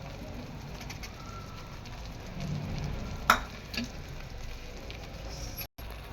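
Green peas, cashews and coriander cook in an onion-tomato gravy on a gas stove for matar paneer, giving a faint, steady low sizzle with one brief scrape of a spoon partway through.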